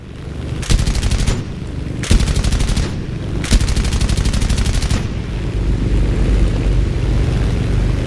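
Aircraft machine-gun fire in a realistic flight combat game: three rapid, loud bursts of rattling shots over a steady engine drone, each burst lasting about a second.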